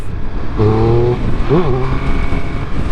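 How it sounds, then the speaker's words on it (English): A Triumph Speed Triple 1200 RS motorcycle engine blips up twice in quick succession, short revs rising and falling against a low background rumble. "when you get on this bike and open the throttle and just give it a little bit of a love tap"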